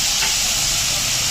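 Chopped tomato hits hot cumin tempering in a pan for a chayote side dish, giving a loud, steady sizzling hiss that stays constant and close with no talking.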